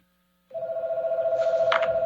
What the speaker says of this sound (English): I have a phone ringing in my background.